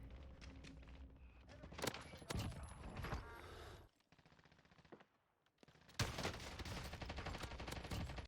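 Rapid gunfire bursts in a video game shooter, with shotgun blasts mixed into a dense, busy soundscape; loud volleys come in clusters with a brief lull in the middle before the shooting resumes.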